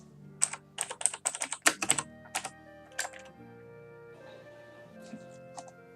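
Rapid, close keystrokes on a computer keyboard clatter in uneven bursts, then thin out to a few scattered taps near the end.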